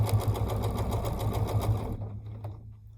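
A domestic sewing machine runs steadily for about two seconds, stitching a quilt along the centre block at a slightly long stitch length, with a fast rhythmic needle hum, then stops and leaves a quiet room.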